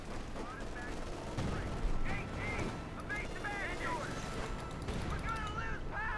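Scattered gunfire and cannon shots from tanks, a Puma and a Sherman, in a Company of Heroes 2 battle, quiet and mixed with battle noise under a talking commentator.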